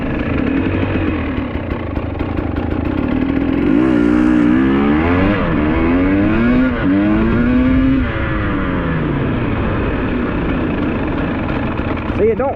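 A fuel-injected GasGas EC300 two-stroke dirt bike engine runs loud and close, blipped through several rising and falling revs in the middle, then settling back to a low, rough idle.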